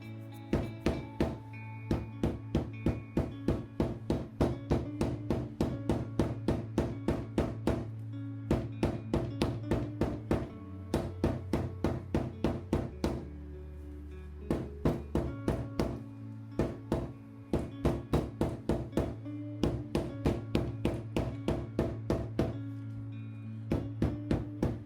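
Rapid, steady taps from a smooth-headed hammer flattening leather stitch lines strike over and over at an even rhythm, each a sharp knock on a firm surface, with a few brief pauses between runs.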